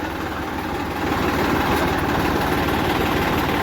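A tractor fitted with a mulcher idles nearby with a steady low rumble and chugging vibration, growing slightly louder after the first second.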